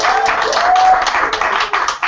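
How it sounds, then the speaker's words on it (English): An audience at a live weekly open mic poetry reading claps for a poet: a dense, continuous burst of applause, loud and close, lasting a couple of seconds. "let's have another round of applause for Kevin"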